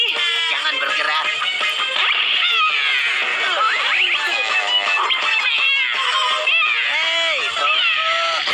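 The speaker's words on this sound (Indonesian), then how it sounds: "Kucing pencuri. jangan bergerak." A cartoon cat meows and caterwauls in a Doraemon episode, a continuous run of loud, wavering meows and yowls close up and nearly unbroken over several seconds.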